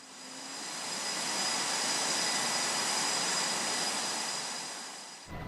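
F-18 Super Hornet jet launched by catapult from an aircraft carrier deck at full power, a loud broad roaring rush that swells and fades over several seconds, then cuts off abruptly.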